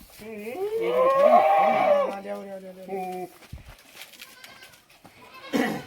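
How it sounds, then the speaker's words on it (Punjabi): Pure Beetal goats on a large goat farm in Himachal forest give a loud, drawn-out bleat close by, followed by shorter calls and a quieter stretch with faint voices in the background. "ਦੇਖੋ ਜੀ ਬੱਕਰੀਆਂ ਦੇ ਦਰਸ਼ਨ ਪਾਓ ਸੋਹਣੀਆਂ ਬੱਕਰੀਆਂ ਨੇ"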